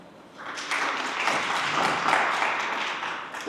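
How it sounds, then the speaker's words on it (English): Audience applause for graduate panelists at a doctoral students' discussion event, a steady wash of many hands clapping that rises after a half second and holds loud and even throughout. "Can we get another round of applause, please?"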